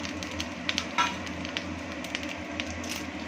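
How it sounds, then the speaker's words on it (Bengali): Fennel seeds, cumin and dried chillies temper in hot oil in a kadai, a soft continuous sizzle with scattered small pops and crackles, close and fairly quiet. "গরম তেলের মধ্যে ফোড়ন দেব একটু মৌরি, একটু জিরে আর শুকনো লঙ্কা"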